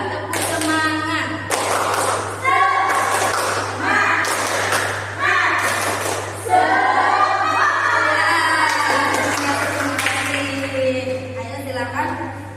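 A class of children claps and chants together in a rhythmic spirit cheer, with bursts of loud shouting and clapping repeating across the clip under a steady background hum.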